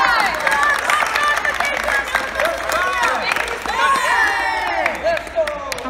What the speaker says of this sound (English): I want a big old round of applause.